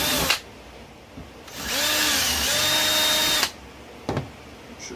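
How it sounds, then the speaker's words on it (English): A power drill bores through ATV plastic in a sustained whining run of about two seconds, loud and close, with a short burst before it and a brief bump after, no talking. "I drilled it for so long the plastic melted and got a little ballooned out a little bit"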